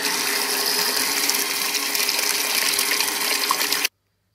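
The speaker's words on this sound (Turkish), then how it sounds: "Bol suda birkaç defa yıkayarak bütün tozunu, ilacını ve üzerindeki pürçüklerini de gidene kadar temizleyeceğim." Small fresh okra pods being rinsed under plenty of running water in a kitchen sink: a steady, loud gush of tap water, close and unbroken, cutting off abruptly at the end.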